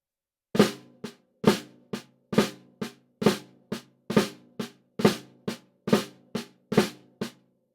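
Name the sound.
flam tap drum rudiment played on drum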